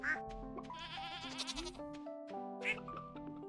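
Sheep and goats bleat in a farm barn in the Stardew Valley video game, several short calls over steady background game music.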